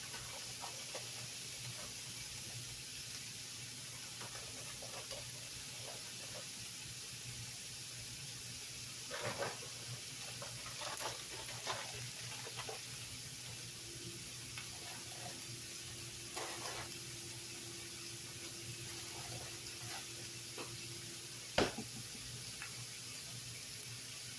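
Frozen peppers and onions cook in a pan, giving a steady low sizzle and hiss, with occasional faint pops and crackles and one sharper tap near the end.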